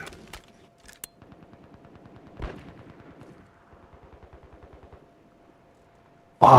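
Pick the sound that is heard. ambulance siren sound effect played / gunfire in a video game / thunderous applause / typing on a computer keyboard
gunfire in a video game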